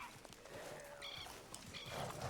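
A horse in Red Dead Redemption 2 clip-clops and snorts softly at low volume, with game ambience behind it and no speech.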